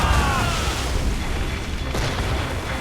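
Heavy ship cannon fire in Assassin's Creed Rogue, a dense rumbling boom and blast wash that rolls continuously and loudly through the whole stretch, with no clear separate shots.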